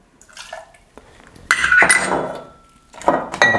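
Dark rum is poured for a Baileys and coconut water cocktail, with bright clinks and knocks of glass and bar tools, a sustained rattle in the middle, and sharp taps near the end.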